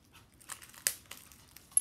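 Plastic wrapping on a pack of playing cards crinkles and tears in short, quiet bursts, with one sharper rip near the middle and a final crackle at the end.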